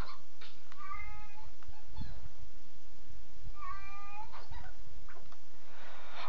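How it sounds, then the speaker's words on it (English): A cat meows twice, a few seconds apart, each a clear drawn-out call over a quiet, slightly noisy room. "because my cat is meowing."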